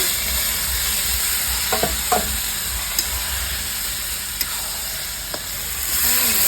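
Cabbage frying in a pan with whole cumin and chilli for a vegetarian dish: a steady, close sizzle and hiss with a few light stirring clicks, and no talking.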